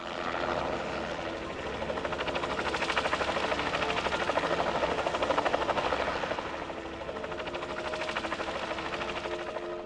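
A helicopter's rapid rotor chop throbs steadily, fairly close, swelling slightly in the middle before easing, with no voices, at a 2017 total solar eclipse viewing event.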